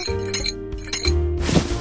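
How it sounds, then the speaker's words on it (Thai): Dice rattle and clink in a shaker during a hi-lo dice gambling game: brief, close clicking bursts repeat over a musical background. "เริ่มเขย่าลูกเต๋าแล้ว"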